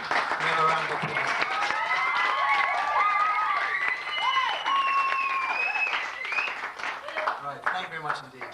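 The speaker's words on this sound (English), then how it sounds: "Give a round of applause" An audience applauds two debate speakers at a teen camp, the clapping running under loud whoops, cheers and voices that rise and fall before easing off near the end.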